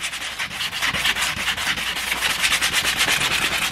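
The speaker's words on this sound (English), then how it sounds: "I'm just going to give it a light sanding to begin anyway." Sandpaper is rubbed by hand over a plastic Stratocaster guitar pickguard in quick, even back-and-forth strokes, a close, steady raspy scratching that keeps its rhythm throughout with no voices.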